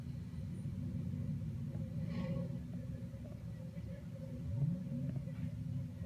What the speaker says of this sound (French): Donc ici, je suis avec la Ford Mustang GT.